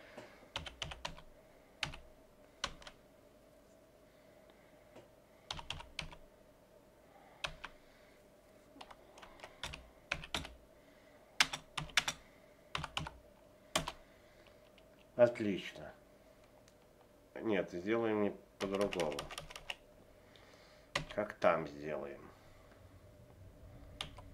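Python code being typed on a computer keyboard: bursts of crisp key clicks, some scattered singly and some in fast runs, close and fairly quiet over a faint steady hum.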